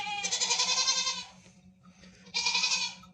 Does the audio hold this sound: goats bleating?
yes